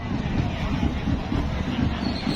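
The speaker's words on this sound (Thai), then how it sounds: "ลมแรงมาก" Strong wind buffeting a football stadium during a Thailand versus China World Cup qualifier, a loud constant roar rumbling against the microphone with no break.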